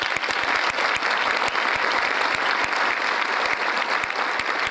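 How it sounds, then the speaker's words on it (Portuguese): Steady, dense applause from a large audience at the opening of an international congress fills the whole stretch, loud and continuous with sharp individual claps standing out from the wash. "Eu queria pedir uma salva de palmas para ele."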